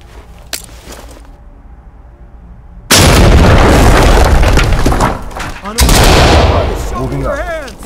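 Loud explosive C2 door breach in the tactical shooter Ready or Not, a sudden wide blast cutting in after quieter ambience, followed by sustained roaring debris and a second burst, with gunfire-like crackle and voices underneath.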